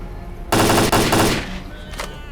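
A burst of rapid rifle fire in the video game STALKER: Clear Sky, a loud dense volley lasting about a second, followed by a quieter trailing echo and a faint later shot.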